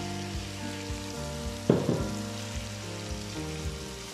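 Bagoong alamang shrimp paste sizzles as it grills, a steady crackling hiss with a sharp spatter burst partway through, close and moderately loud over a background of tonal hum.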